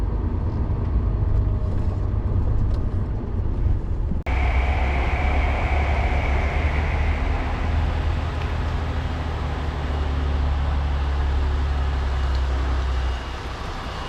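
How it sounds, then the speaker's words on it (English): A lorry rumbles as it swings into an open car park and reverses, a steady loud low engine drone with a brief shift partway through, heard close with no talk. "So I'll swing into the car park to the left and reverse it back."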